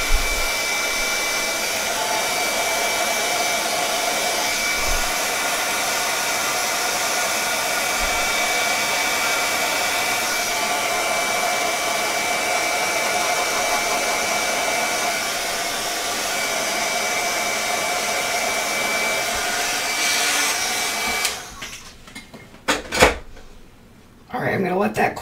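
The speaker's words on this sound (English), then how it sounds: "So one thing about embossing tools, it's really good to let it heat up for a few seconds" An embossing heat tool runs continuously for about twenty seconds with a steady blowing hum like a hair dryer, close and loud, and then shuts off, followed by a few handling clicks and taps.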